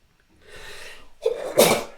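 A single human sneeze up close, a breathy intake building to a sharp, loud burst at the end, alone with no other sound around it.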